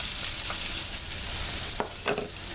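Potatoes sizzle in hot sausage grease, a dense, even hiss close by, broken near the end by a couple of brief scraping clatters of stirring.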